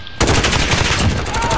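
Grau 5.56 assault rifle fires in Call of Duty: Modern Warfare, a loud rapid automatic burst of gunshots that starts abruptly and runs without pause.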